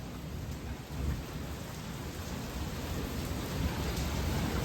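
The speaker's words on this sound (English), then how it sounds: "It's absolutely pouring out here." Heavy rain pours down in a thunderstorm, a dense, steady hiss with low rumbles of thunder underneath, heard alone without voices.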